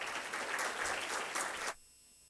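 An audience at a civil code seminar gives a round of applause, a dense, even patter of clapping that stops abruptly, leaving quiet room tone.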